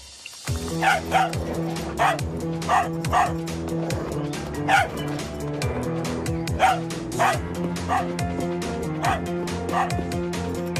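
A dog barks repeatedly in a steady rhythm, close and clear, with yips mixed in over a background of music.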